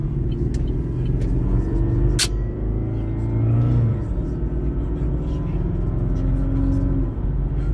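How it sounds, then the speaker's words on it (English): A car accelerates to highway speed, its engine rumbling steadily and rising in pitch close by inside the cabin, with a person talking over the drone. "Powering up for highway speed."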